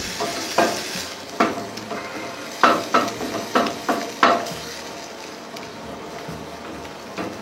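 Cream cooks in a pan for a wild boar terrine gratin, with steady sizzling under a series of rhythmic scraping stirs of a utensil against the pan, close and moderately loud.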